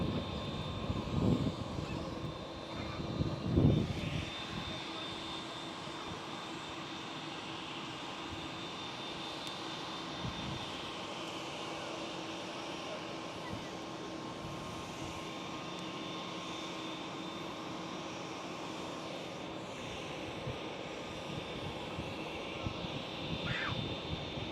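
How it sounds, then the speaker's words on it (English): A Boeing 737-500 rolls on the private jet runway 22 at Schiphol, its jet engines giving a steady, distant roar and hum throughout, with a few louder rumbles early on. "There's a 737 500, is it?"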